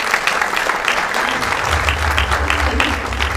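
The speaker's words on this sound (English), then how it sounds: "A big round of applause." Audience applause at a provincial sports awards ceremony, dense continuous clapping from a crowd filling the room, with a low voice starting underneath near the end.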